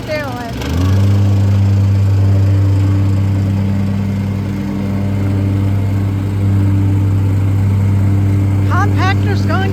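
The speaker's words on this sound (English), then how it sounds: "Compactor's going crazy." A plate compactor runs steadily and loudly during brick paving prep, its motor holding a constant drone throughout, with brief voices over it near the start and end.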